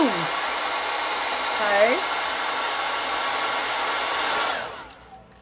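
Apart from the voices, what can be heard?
blow dryer holding a hair curl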